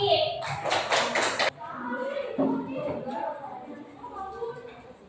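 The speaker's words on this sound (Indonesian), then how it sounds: "Tepuk tangan bagi" Students in a microteaching class clap briefly, a short burst of several hands at the start, then children's voices talk for the rest.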